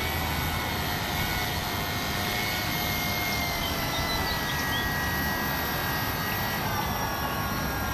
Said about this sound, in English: that was the review and flight of the Fly Zone Tidewater airplane